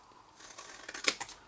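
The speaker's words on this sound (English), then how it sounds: "Be brave with your long scissors, and we're going to cut" Long scissors snip through a paper gift box in a few quick, close cuts, the sharpest two near the end, with no talk.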